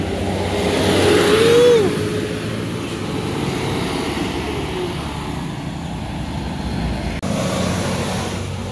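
Road traffic beside a highway in Sumatra, with a truck and an intercity bus on the Padang–Medan route passing close by: a steady, loud engine roar with a brief swelling rumble as a vehicle goes past, no talk.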